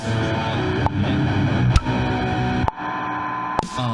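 Heavily distorted metal guitar tone from BandLab distortion effects, thick sustained chords changing roughly once a second, with sharp clicks at each change.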